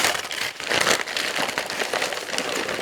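Amazon packaging is handled and unwrapped, giving a close, steady crinkling and rustling of plastic or paper that fills the moment without any voices.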